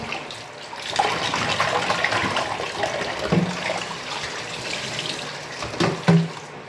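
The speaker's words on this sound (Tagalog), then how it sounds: "So, hugasan na natin siya." Something being washed under a running tap in a bathroom sink, water splashing steadily with brief louder surges near the end, close up and with no talking.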